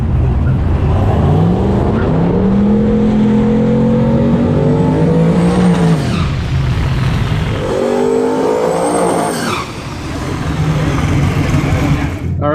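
Turbocharged 6.0L Ford Cobra Mustang at a quarter-mile drag strip, loud engine revving with rising and falling pitch sweeps as it launches, a brief lull, then another hard pull and shift, strong and close throughout.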